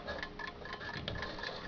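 A 1918 Waterbury wind-up alarm clock ticks steadily and faintly at close range, with about a dozen light, evenly spaced ticks over a soft background hiss.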